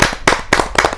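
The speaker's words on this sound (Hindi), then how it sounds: "जोरदार तालियों के साथ हम उनका स्वागत करते हैं।" A small audience at a Hindi poetry gathering claps in welcome, loud close sharp claps in a few distinct bursts over about a second.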